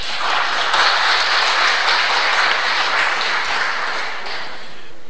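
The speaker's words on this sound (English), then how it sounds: "I thought we were told not to clap or make noises or sounds and so forth." Audience applause breaks out during the question-and-answer session of a debate on the crucifixion: a steady, dense wash of clapping that holds at an even level for about five seconds, with no voices over it.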